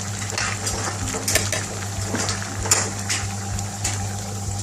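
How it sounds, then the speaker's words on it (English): Pilau rice is stirred gently in a pot in an Indian restaurant kitchen, with soft scraping and light clinks over a steady low kitchen hum and faint sizzle. "So the chef is stirring the rice here with a little nice and gently stir."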